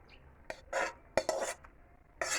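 Drained chow mein noodles get stirred and tossed with a spatula in a pan, several short scraping clinks of metal on cookware in an uneven rhythm, close and fairly quiet.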